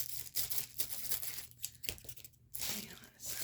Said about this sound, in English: I'm just going to do a little snippy snip with my scissors.